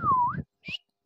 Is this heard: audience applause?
no